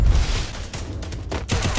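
Rapid gunfire from the Free Fire video game, a dense burst of shots near and loud that runs through the whole moment with short gaps, over a low rumbling bed.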